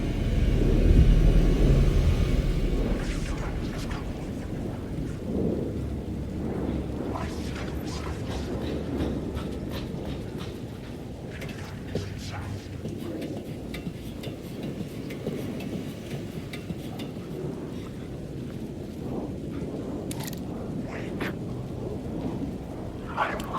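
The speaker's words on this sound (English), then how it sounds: "rain never stopped falling." Rain and thunder in the video game Alan Wake 2: a deep thunder rumble up front gives way to steady, soft rainfall with scattered drips and patters, moderately quiet throughout.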